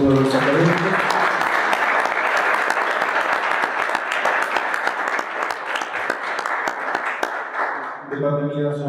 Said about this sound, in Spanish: Le damos un aplauso a los 2 nuevos académicos.